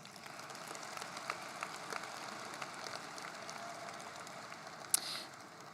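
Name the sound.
applause for the graduates' supporters at graduation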